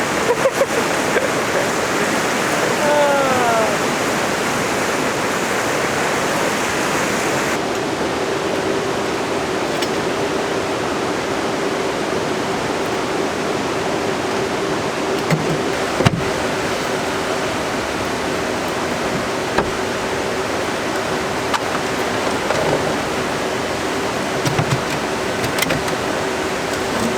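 Heavy rain pours steadily through a storm at a van campsite, a dense, continuous hiss that stays loud and even throughout, with a few sharper drips or knocks standing out near the middle and end.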